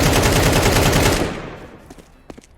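Automatic rifle spray fire in the game CS2, a loud rapid burst of shots for over a second, then fading into a couple of faint distant shots.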